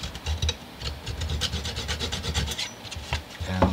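Basswood toothpicks plugging the tuner holes of a guitar headstock are cut off flush, a close, rapid rasping and scraping of blade on wood in quick repeated strokes, with no talking.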